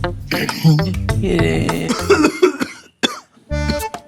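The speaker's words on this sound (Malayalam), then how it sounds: "അമ്മ ഞാൻ ചുമച്ചത് ശ്രദ്ധിച്ചായിരുന്നു" A single person coughs several times in quick harsh bursts, close and loud, with a brief pause before a final cough.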